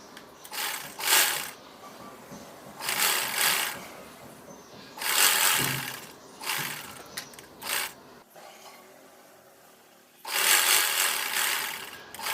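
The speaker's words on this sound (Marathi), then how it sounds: "आता आपण इथे टीप मारणार आहे" A sewing machine stitches the seam of a small cotton blouse for a three-year-old girl, running in four or five rattling bursts of a second or so each, separated by short quiet pauses, close and fairly loud.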